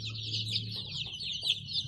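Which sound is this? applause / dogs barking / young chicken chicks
young chicken chicks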